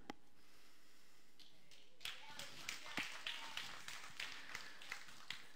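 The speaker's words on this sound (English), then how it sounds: "Thanks for applauding that" A church congregation applauds during a sermon, with quiet, scattered claps that start after a pause and continue unevenly for several seconds in a large room.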